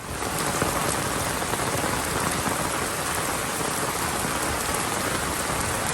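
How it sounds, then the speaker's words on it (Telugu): Heavy, steady rain pours down in a dense, unbroken hiss of countless drops striking a surface, loud and close throughout. "వర్షపు చినుకుల శబ్దానికి కావచ్చు, ఆ రిథమిక్ సౌండ్కి కావచ్చు"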